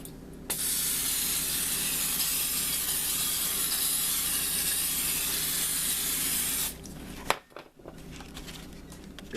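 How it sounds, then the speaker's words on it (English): Cooking spray hisses onto a griddle for pancakes in one long, steady burst of about six seconds, followed by a few clicks and handling noises of the can. "we're going to get some cooking spray right now. And we're going to lubricate the griddle."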